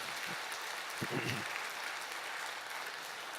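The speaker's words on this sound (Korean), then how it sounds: "우리 같이 다 같이 박수를 한번 격려해 주시겠습니다" A church congregation applauding during a Sunday service, a dense, even wash of clapping from many hands, soft and distant, with a brief voice breaking through near the start.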